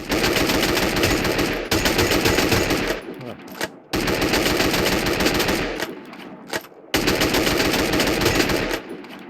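Sustained bursts of automatic gunfire at a shooting range in the video game Free Fire, loud and dense, in three long volleys separated by brief pauses.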